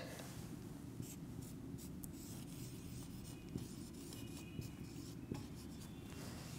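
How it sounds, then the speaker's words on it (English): A word written by hand, with quiet scratchy strokes of the pen or pencil coming in short faint bursts over a low background. "Then another word I can write"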